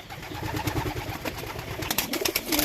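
Pigeons in a loft keep up a steady, overlapping cooing with soft bird calls, moderately close, over a continuous low murmur and occasional faint higher rustles.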